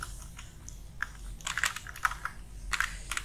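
Code is being typed on a computer keyboard for a Unity mobile tank game, with quiet, irregular clicks and short bursts of keystrokes close by.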